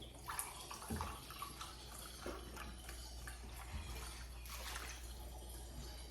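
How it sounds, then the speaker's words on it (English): Chicken broth poured into a measuring cup, a soft continuous liquid trickle and splash, faint and close, with a few light knocks of the cup. "I'm going to do chicken broth instead. And we're just going to measure out 2 cups."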